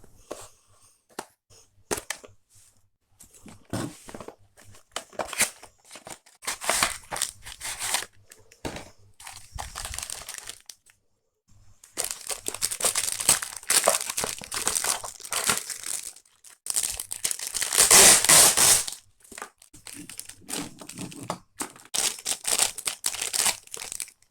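Beyblade Burst Sparking Rage Longinus packaging being unboxed, with loud close crinkling of plastic and cardboard and sharp tearing bursts that come in dense waves, broken by a short silence.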